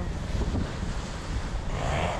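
Sea waves and wind at the shore of a seaside boulevard in Amlan, Negros Oriental, in the Philippines: a continuous rushing wash of surf and gusts buffeting the microphone, fairly loud and steady, with no voices.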